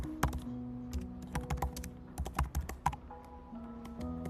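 Java code being typed on a computer keyboard, rapid uneven clusters of close key clicks with brief pauses, over a soft steady background hum.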